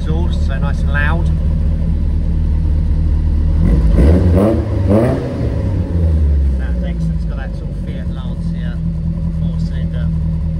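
A 1965 Lancia Fulvia 2C Berlina race car idles loudly through its side exit exhaust, with a sharp revving blip midway and a steady rumbling burble before and after, while a person talks nearby.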